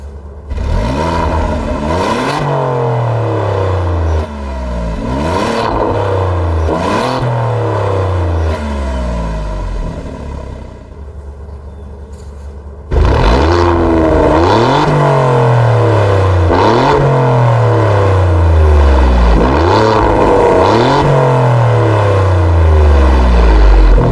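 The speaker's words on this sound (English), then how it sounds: "But back to that exhaust note." An Alfa Romeo Giulia Quadrifoglio exhaust revs up repeatedly, each sharp rising howl dropping back before the next. After a brief lull it returns louder for another series of revs, close and loud with no talking.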